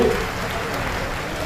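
Applause from the audience at a government event marking a water supply scheme, chaired by an MP: steady, dense clapping held at an even level throughout, with some voice mixed in.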